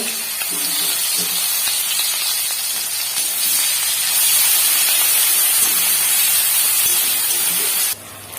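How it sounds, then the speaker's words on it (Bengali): Half-ground onion paste fries in a pan with a loud, steady sizzle and hiss close by. The sound continues unbroken for several seconds before dropping off sharply near the end. "আধা বাটা পেঁয়াজের পেস্ট দিয়ে দেব। পেস্টটাকে দিয়ে একটু ফ্রাই করব।"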